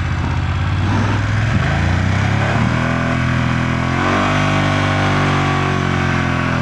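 A heavy BMW F 900 GS motorcycle, around 226 to 230 kg, riding and leaning through turns, its engine droning loud and close with the pitch rising and falling as it changes speed.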